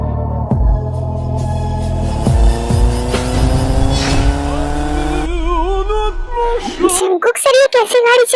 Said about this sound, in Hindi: ये कैसी गाड़ी चला रहे हो आप?